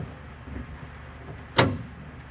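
Aircraft landing gear retracting in a workshop produces a single sharp clunk that cuts through a low, steady background hum.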